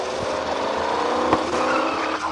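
In the LittleBigPlanet video game, a car drives and skids with a continuous squealing, racing-engine sound, moderately loud and steady, with a couple of brief bumps.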